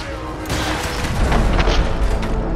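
A missile explosion in the video game Fallout 4 lands as a deep, loud boom, followed by a sustained rumbling roar of fire and debris up close.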